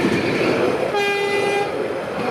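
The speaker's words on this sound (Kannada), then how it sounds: "ಬೀದರ್ ಬಾಲ್ಕಿ ಟ್ರೈನ್ ಹೊಂಟದು ಬಂತು ನೋಡ್ರಿ" A Bidar-Bhalki train passing close by, its loud steady rumble filling the scene while a horn sounds a sustained tonal blast for under a second partway through.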